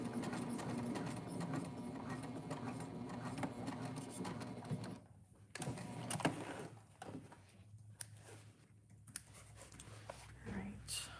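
A sewing machine stitches along the outside edge of a mystery sew-along quilt block, running steadily through the first half and then giving way to quieter stops, clicks and handling noises.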